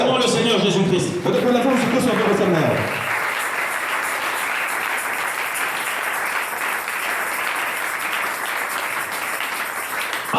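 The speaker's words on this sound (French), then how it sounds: "Acclamons le Seigneur Jésus-Christ." A church congregation applauds at a French-language sermon, a dense, sustained wash of clapping from many hands that carries on without a break, with a voice speaking over it at the start.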